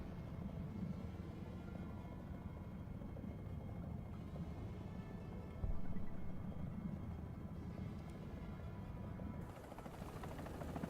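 A helicopter in the combat game War Thunder thrums with a steady, droning rotor and engine roar that holds constant throughout, swelling briefly louder midway before settling back.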